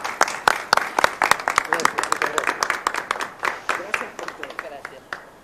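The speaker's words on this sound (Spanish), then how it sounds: "Un aplauso" A small audience at a home for the elderly gives a prize winner a brisk round of scattered hand clapping that gradually thins out and fades over a few seconds.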